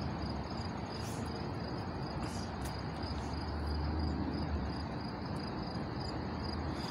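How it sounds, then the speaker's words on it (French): Crickets chirp outdoors in a dense, steady, moderately loud shrill chorus with sharper chirps on top. The sound continues alone with no speech. "On attend les grillons"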